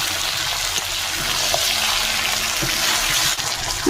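Water pouring into a pot of chicken curry with potatoes on a village stove, a steady close rushing flow that runs unbroken throughout with no talking.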